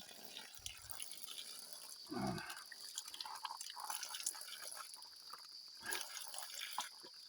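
Cold spring water trickling and dripping at a mountain source, a faint steady wash of flowing water with a couple of soft splashing bursts, heard alone with no one talking.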